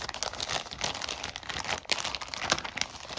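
A plastic bag from a board game box being handled during unboxing, crinkling and rustling in quick irregular bursts for a few seconds, close and fairly soft.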